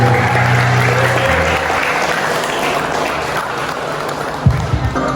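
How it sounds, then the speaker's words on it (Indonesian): Audience applauds steadily after a family-themed drama staged by teachers at a vocational school orientation event, broad clapping filling the room for several seconds, with a brief thump near the end. "Beri tepuk tangan yang meriah"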